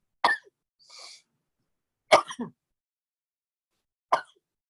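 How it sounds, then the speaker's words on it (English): Three short, sharp bursts spaced a couple of seconds apart, each an explosive nasal sneeze, with a soft breathy sound after the first. "sneezes came out of nowhere"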